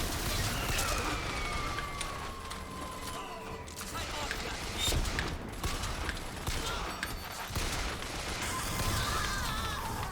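Rapid gunfire crackles and booms in a video game as a turret is destroyed, dense bursts running throughout amid busy battle noise, with a voice talking over it.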